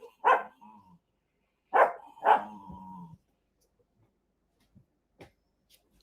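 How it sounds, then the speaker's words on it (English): A dog barks close by in two short bursts, a single bark followed by a double bark with a trailing growl, then quiet with faint distant taps and rustles. "Why do I always have dogs barking in the video?"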